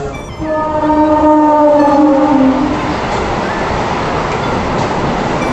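Andhra Pradesh Express with its locomotive at Visakhapatnam station, its horn blaring loudly for about two seconds before the steady rumble of the train rolling along continues.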